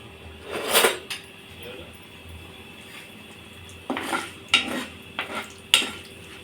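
Mustard-type tempering seeds and a dry red chili fry in heated oil for a raw banana stir-fry, with soft sizzling under a few sharp clinks and scrapes of a spoon against the pan.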